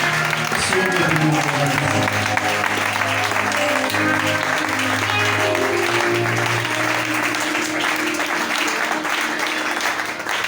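A church congregation bursts into dense, sustained applause and cheering for Jesus, a continuous wash of clapping with voices rising through it.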